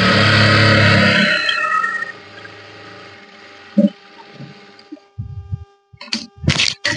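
A sewing machine stitching blouse fabric runs loudly and steadily with a mechanical whir, slows and stops, then gives a few short bursts of stitching near the end.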